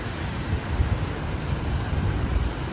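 Rain falls on a street in the Busay area of Cebu City, a dense, constant patter mixed with low rumbling wind noise, steady and fairly loud, with no voices.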